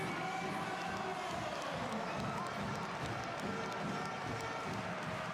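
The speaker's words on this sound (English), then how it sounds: "The crowd are ecstatic." An ecstatic basketball crowd at the Mosir Arena after a Basketball Champions League game, a dense, continuous roar of cheering and shouting filling the whole stretch, with a voice faintly mixed in.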